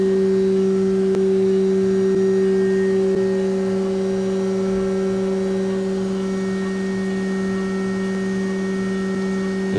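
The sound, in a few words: CNC machine running, cutting metal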